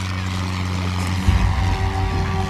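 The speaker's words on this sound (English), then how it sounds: "That's a plane, that's a plane." Small engine seaplane flying over a lake, a droning propeller hum that grows louder midway, with people talking nearby.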